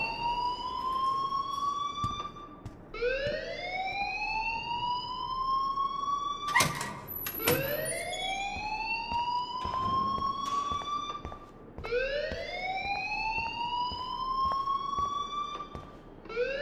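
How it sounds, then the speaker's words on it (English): A wailing fire alarm from the video game Life is Strange, sweeping upward in repeated rising whoops about every four seconds, loud and steady, with a brief sharp clatter partway through. "please turn off that alarm since that's your job"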